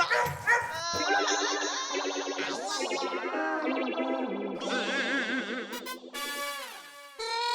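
A dog in a Hindi TV comedy scene barks, yips and whimpers in a rapid run of sharp calls that sound electronically processed and distorted, with no speech over them.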